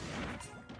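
Hammer item smashing in Super Smash Bros. Ultimate, one brief, loud, heavy crash-like impact burst.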